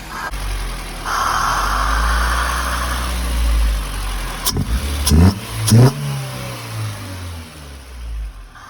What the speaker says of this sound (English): The idle air control is so loud.